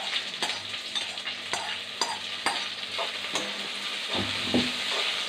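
Okra and onions sautéing in a hot pan, continuous loud sizzling with repeated sharp scrapes and taps of a spatula at an uneven pace, close up.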